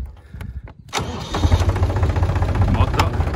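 Diesel engine of a crawler tractor in a vineyard cranks and catches, then settles into a loud, steady low rumble close by, with a person talking over it.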